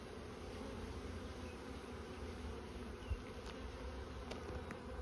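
Honey bees in an opened hive full of capped brood and honey stores, producing a dense, steady buzzing hum that stays close and continuous throughout with no talk.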